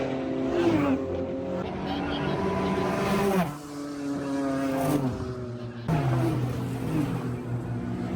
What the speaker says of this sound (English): Crazy, the speed of the cars passing by